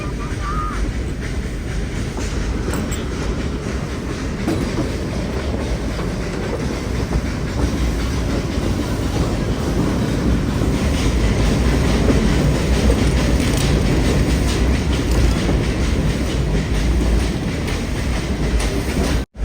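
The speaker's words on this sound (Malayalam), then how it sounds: "റെയിൽവേ സ്റ്റേഷനിലേക്ക് ഇതാ ട്രെയിൻ എത്തിയിരിക്കുകയാണ്." A Nilgiri Mountain Railway train between Mettupalayam and Ooty rumbles along steadily with a continuous clatter of wheels on track, loud and close, never letting up.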